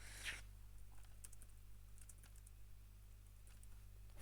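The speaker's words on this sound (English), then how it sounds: "Ferociously typing." Fast typing on a computer keyboard comes through as faint, scattered clicks and taps over a constant low electrical hum, with no voices.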